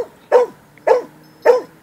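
A dog barks three times in an even rhythm, each bark loud and close, with short quiet gaps between them and no talking.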